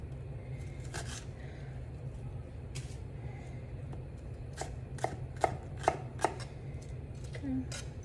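Knife chopping vegetables for pupusa salsa on a cutting board: scattered soft taps early, then a few sharper, louder chops near the middle, close up over a low steady background hum.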